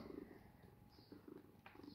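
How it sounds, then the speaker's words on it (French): A pet cat purrs close to the microphone, a faint soft rhythmic rumble with a few light rustles and no talking. "Et qui ronronne en plus."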